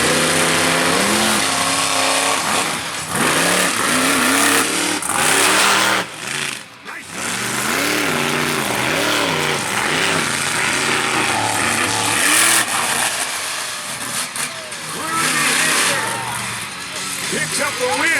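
A 1947 Dodge panel van roars loud and raw through a drag race launch, its engine revving in rising, wavering sweeps over a busy crowd and a commentator talking throughout.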